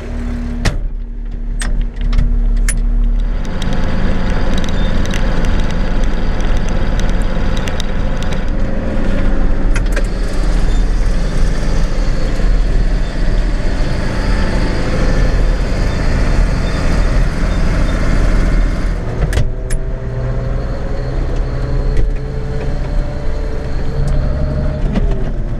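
A heavy 95-horsepower diesel tractor engine idles steadily and loudly throughout, a continuous low rumble with a few clicks and knocks on top, no voices.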